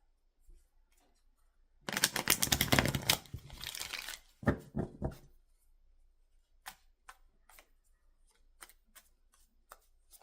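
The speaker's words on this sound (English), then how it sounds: "we got a couple cards flipping over here" Tarot cards shuffled and flipped over on a table, a dense burst of riffling and sliding followed by scattered sharp snaps and taps as individual cards are turned, close and crisp against near silence.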